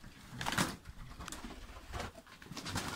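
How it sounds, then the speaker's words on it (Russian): Pigeons from a loft of long-flying tumbler pigeons coo softly at close range, with a few low throaty calls scattered through a quiet background. "Голуби, голуби."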